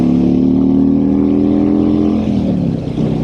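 A Harley-Davidson Freewheeler 114 trike's engine powers up with a loud, steady low rumble that rises and then eases as it accelerates close by, no voices.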